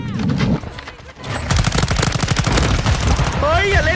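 Rapid automatic gunfire from Call of Duty: Modern Warfare II rattles in dense bursts, close and loud, after a short pause, with excited voices shouting over the shots.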